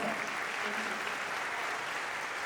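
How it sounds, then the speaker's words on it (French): A crowd applauds steadily at the final of a costume show contest at the 2023 Toulouse Game Show, a dense continuous clapping wash that holds at even loudness throughout with no talk over it. "On peut applaudir encore une fois plus fort."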